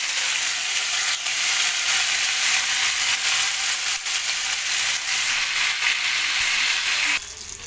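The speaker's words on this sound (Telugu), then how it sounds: "జీలకర్ర వేగిన తర్వాత కొత్తిమీర, మెంతం కూర వేసి ఫ్రై చేసుకోవాలి" Cumin, coriander and fenugreek leaves fry in hot oil in a pan, giving a steady, loud, close sizzle that stays even throughout and drops off slightly near the end.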